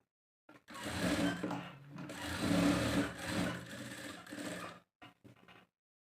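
Sewing machine stitching slippery fabric for a child's sharara pant, a close rhythmic mechanical clatter that runs in several bursts with brief pauses, then a few short taps at the end.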